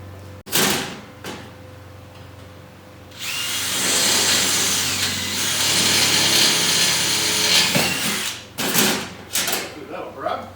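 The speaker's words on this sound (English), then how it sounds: "So let me get my drill." A power drill runs in steady bursts, with a long whine in the middle, during the build of a powder coating oven. Clunks and handling noises from the workshop surround the drilling.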